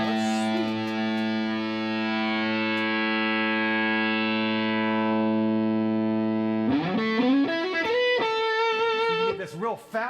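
An electric guitar runs through a Big Joe hard tube overdrive pedal, first holding a long sustained overdriven chord that rings out, then shifting into bent notes and quick lead phrases with thick, saturated distortion.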